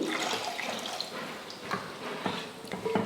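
Water splashes and runs steadily into a cooking pot for a few seconds, a close, continuous pour with small bursts and drips, no voices.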